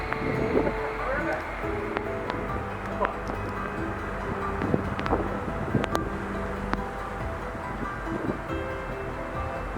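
Strong Hurricane Helene wind roars as a continuous broadband rush throughout, with gusty swells and occasional knocks and rattles, while people talk nearby underneath.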